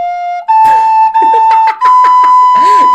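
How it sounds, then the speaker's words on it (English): A recorder plays a short melody of a few sustained, slightly breathy high notes, loud and close, with talking in the background over the notes. "that's what it sounds like on a recorder"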